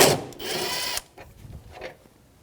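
A socket wrench works a 10mm bolt loose on a 2009-2014 Nissan Maxima, giving one short loud burst of ratcheting followed by a few faint clicks and knocks.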